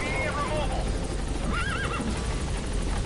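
A horse whinnies in Metal Gear Solid V: The Phantom Pain, a wavering neigh midway through amid hoof clip-clop and a busy game soundscape, with a voice talking over it.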